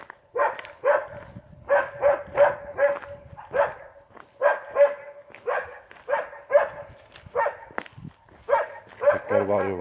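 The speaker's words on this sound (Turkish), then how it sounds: "Köpekler bağırıyor bana." Several dogs bark in repeated bursts, close and loud, on a nature walk, with a steady high whine beneath and brief yips near the end.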